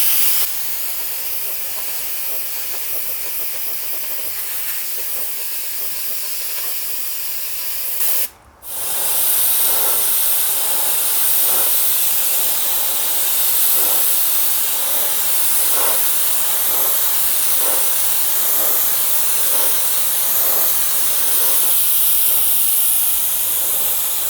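A Paasche H airbrush sprays cap plastic in a steady, bright hiss that runs continuously, cuts out for a brief moment and then resumes, with faint ticking underneath.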